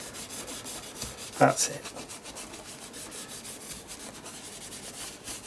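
Rubbing paint onto an art journal page, a soft, continuous close scrubbing texture with one brief louder scuff early on and a short spoken remark near the end.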